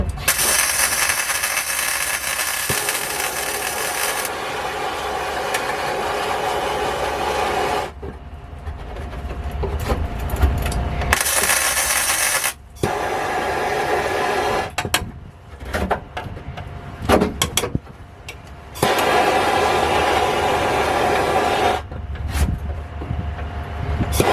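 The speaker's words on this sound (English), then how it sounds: "right now I'm gonna grind down all of this so that he has clean places to weld to" An angle grinder runs loud and steady against rusty car body metal, stripping it down for welding in long sustained passes broken by short pauses and restarts.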